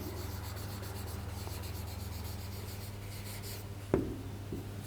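A pen or pencil writes a math statement by hand on paper, making quiet, continuous scratchy strokes close by, with one brief tap near the end and no talk.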